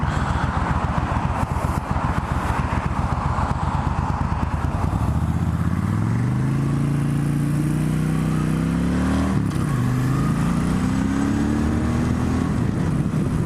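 A 1996 Suzuki VS1400 Intruder motorcycle engine idles with a steady putter, then revs up hard and accelerates, its pitch climbing and dipping again; loud and close throughout.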